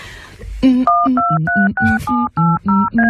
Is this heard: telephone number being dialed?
yes